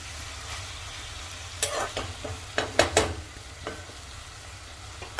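Potatoes and fenugreek leaves frying in mustard oil produce a low, continuous sizzle, broken by several louder clustered bursts of crackling and spoon scraping partway through.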